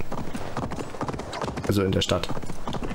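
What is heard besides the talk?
horse hooves while riding in Assassin's Creed Valhalla video game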